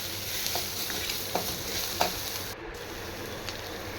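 Chili and coriander powder sautéing in a pan for sambar, giving a steady close sizzle with a few soft stirring taps and no voices.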